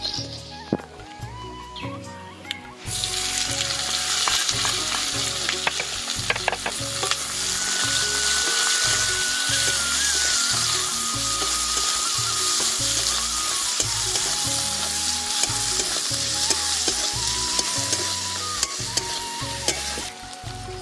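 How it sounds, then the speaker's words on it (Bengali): Chopped onions frying with whole cumin and whole garam masala spices in a pan, a loud continuous sizzle with rhythmic stirring scrapes and clanks, a brief quieter stretch at the start before the frying swells. "পেঁয়াজটা খুব ভালো করে ভেজে নিয়েছি"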